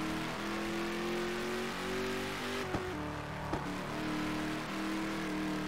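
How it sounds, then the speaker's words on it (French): Ford GT40 engine in the racing game Classic Racers Elite: a steady, loud engine drone holding pitch, dipping and climbing with gear changes and brief clicks around the shifts, with no talking. "On entend bien le moteur différent."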